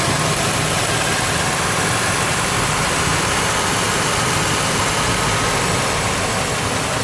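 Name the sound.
2006 Chevrolet Monte Carlo engine idling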